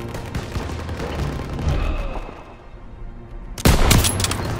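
World War II combat gunfire in Call of Duty WWII, rapid rifle and machine-gun bursts crackling nearby, fading briefly before a sharp loud shot and renewed volley near the end.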